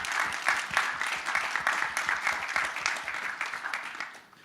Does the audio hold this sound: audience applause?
yes